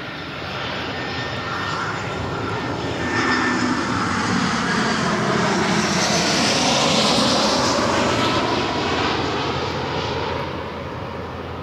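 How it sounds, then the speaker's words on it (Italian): A jet airliner passing overhead, its broad engine roar swelling slowly to a peak and then fading, steady and fairly loud, with no talking. "C'è un altro aereo, guarda."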